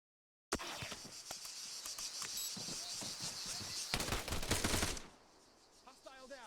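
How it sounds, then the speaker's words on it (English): Automatic weapon fire in the Arma 3 video game, a sustained rapid rattle of shots for several seconds that stops abruptly, leaving faint ambient sound. "If I put it on automatic fire"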